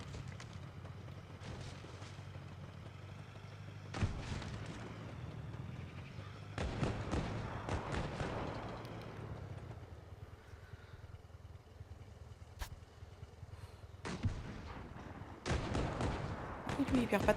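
Tank guns firing in the video game World of Tanks, several heavy booming blasts at irregular intervals over a low rumbling engine bed, with someone talking over the action.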